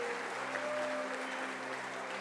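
Church congregation applauding during a service, steady sustained clapping at low to moderate level with a faint tonal hum underneath, no speech.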